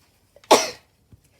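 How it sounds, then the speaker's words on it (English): A single sharp sneeze bursts out near the microphone, loud and brief, after a soft intake of breath, with quiet room tone and a faint click after it. "Excuse me if I was sneezing on camera."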